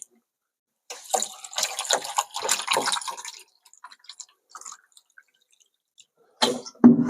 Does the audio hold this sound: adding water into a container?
yes